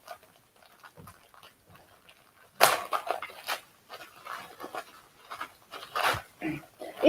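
A dog whines and pants in the background, faint at first and then louder with a sudden burst of close snuffling and whimpering, irregular and intermittent.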